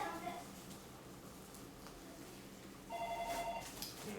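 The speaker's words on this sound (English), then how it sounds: "And the telephone ringing." A telephone rings faintly in the background of a home kitchen during Italian sausage making, with two short ring bursts separated by a few seconds of quiet room noise.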